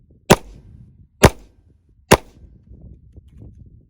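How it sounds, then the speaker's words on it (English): Three sharp, loud shots from a Tisas D10 10mm 1911 pistol ring out about a second apart at close range, each with a short decaying echo and quiet gaps between. "I'm just going to fire 6 rounds."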